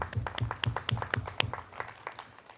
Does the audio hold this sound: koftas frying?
no